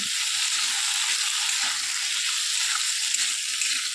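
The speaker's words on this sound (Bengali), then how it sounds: "লবণ দিয়ে আলুটাকে ভালো করে ভেজে নিতে হবে" Steady, bright sizzling of salted potatoes frying in hot oil, even and continuous throughout with no voices.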